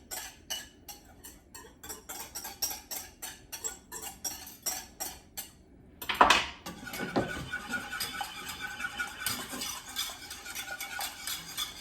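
A banana bread granola mixture stirred in a pan: rhythmic scraping strokes of a spoon against the metal, then a clunk as more goes in, followed by continued steady mixing scrapes.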